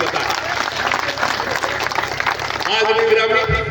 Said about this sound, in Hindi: एक बार जोरदार ताली बजा के मुझे बताएं